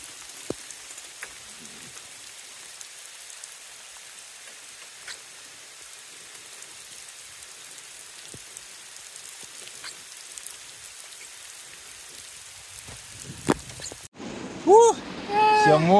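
A heavy rain downpour in a forest, caught during a bicycle ride, patters steadily on surrounding surfaces for a long stretch, with scattered louder drops. A voice speaks briefly near the end.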